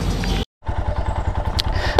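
A motorcycle engine runs close by with a steady, thumping low pulse that cuts out briefly near the start and then resumes, with some light scraping and clatter alongside.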